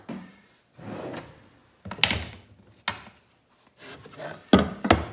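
A soft-close drawer on a custom wooden cabinet slides and thumps shut several times, with wooden rubbing glides and sharp knocks at irregular intervals, close and fairly loud.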